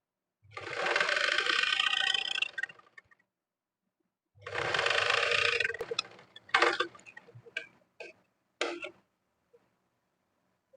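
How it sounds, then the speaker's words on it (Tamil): A sewing machine stitches blouse fabric in two long steady runs, followed by a string of short stop-start bursts and light ticks, close and loud with no talking. "நான் ரொம்ப எட்ஜில் வச்சு அந்த தையல் போட்டு எடுத்திருக்கேன்"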